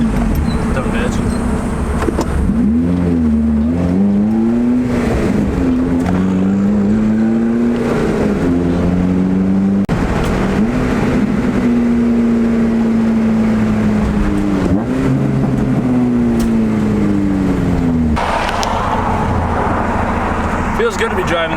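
A car drives with steady engine drone that rises and falls in pitch through gear changes, loud and close throughout, with a voice briefly audible over the motor.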